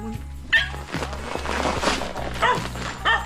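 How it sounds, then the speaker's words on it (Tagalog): A few sharp dog barks and yips break out over a thumping rhythmic background, close and fairly loud in short bursts. "abugin mo ang aso mo, maingay!"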